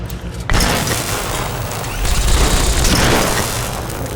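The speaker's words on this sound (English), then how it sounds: "Just throw like a pulse grenade in there a couple of times." A pulse grenade goes off with a sudden heavy boom in Fallout New Vegas, followed by a sustained crackling, rumbling wash that swells again before slowly fading.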